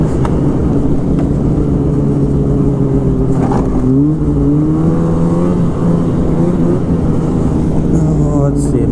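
A Polaris Rush Pro R 600 snowmobile engine drones loudly while riding across a snowy field, its pitch climbing as the throttle opens, steady and close throughout.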